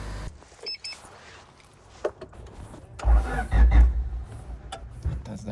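Honda Civic EG hatchback with a new starter, cranking only briefly before the engine catches and starts, a short close burst of rumble and whir after a few faint clicks.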